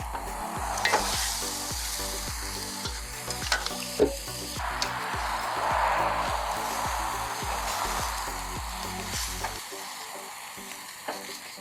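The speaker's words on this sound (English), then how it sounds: "Now the grill is ready and it's been waiting for the turkey, and I'm gonna add it onto the grill." Jerk turkey sizzles steadily as it goes onto a hot outdoor grill on a busy street, the frying hiss sitting under loud rhythmic music for most of the stretch before the music cuts out near the end.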